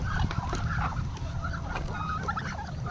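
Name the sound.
turkey gobbling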